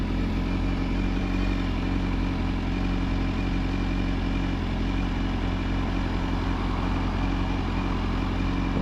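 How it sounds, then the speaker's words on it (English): A 2016 BMW S1000RR motorcycle idles with an Akrapovic slip-on exhaust, a steady low engine rumble held at an even, fairly loud level with no one speaking. "Slip-on Akrapovic exhaust right here."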